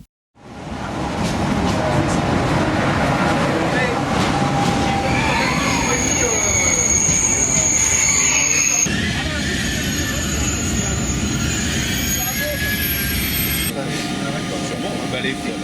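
A French TGV high-speed train at a station, wheels squealing in thin high tones over a dense, loud rumble of rolling stock, with voices talking in the background.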